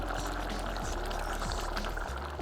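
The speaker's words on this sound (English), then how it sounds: "now what we want to do is to top it up with some water" Water pours steadily and loudly into a pot of dark Taiwanese braised pork for lou rou fan, a dense gushing splash close by with no pauses.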